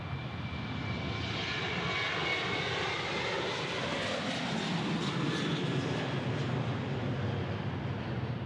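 A Boeing 737-800 jet on the runway at Dallas Love Field gives a loud, steady, broad engine roar that fills the whole stretch without letting up.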